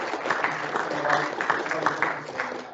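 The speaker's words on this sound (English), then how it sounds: "one round of applause for everybody who's spoken again today." Moderate audience applause at a rail decarbonisation innovation session, steady clapping at a fairly low level over a few seconds with voices faintly underneath.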